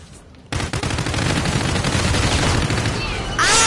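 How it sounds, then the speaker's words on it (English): Rapid automatic gunfire in the Call of Duty: Infinite Warfare video game, a loud, dense burst of shots that cuts in after a brief quiet moment and rattles continuously before ending in a sharp electronic whoosh. "I shot someone"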